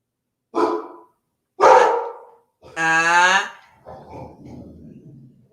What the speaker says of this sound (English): You want to grumble and bark.